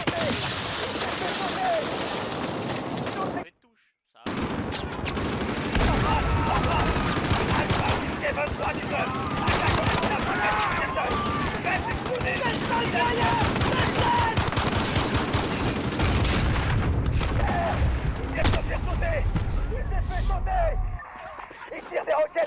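Call of Duty Modern Warfare combat in a London street attack: dense bursts of rapid gunfire and explosions under frantic shouted voices, with a brief silent gap near four seconds and heavy low booms late on.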